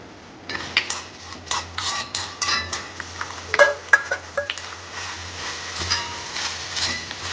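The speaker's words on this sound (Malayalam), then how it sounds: "കുറച്ച് തേങ്ങ ഒതുക്കി എടുത്തിട്ടുണ്ട് അത് ഇതിനകത്തിട്ട് നമ്മൾ മൂപ്പിച്ചെടുക്കണം" Grated coconut with curry leaves and green chillies roasting in a pan, heard as a steady run of scraping, tapping spatula strokes against the metal, fairly close and with no speech.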